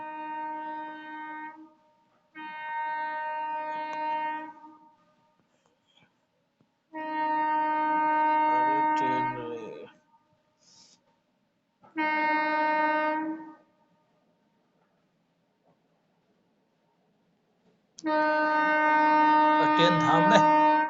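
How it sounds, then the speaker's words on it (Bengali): A train horn sounds in several long, loud, sustained blasts separated by short silences, close by with no talking. "ট্রেন থাম রে"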